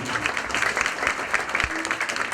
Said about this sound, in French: Pascal, sous vos applaudissements, s'il vous plaît.